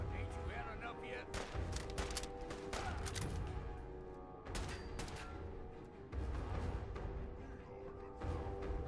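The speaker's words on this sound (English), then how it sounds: "What gun does this guy have that he's just instantly shredding through me?" Enemy gunfire in a video game crackles in rapid, loud bursts of shots with brief pauses between volleys, sustained throughout.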